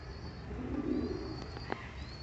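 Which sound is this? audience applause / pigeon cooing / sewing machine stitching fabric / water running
pigeon cooing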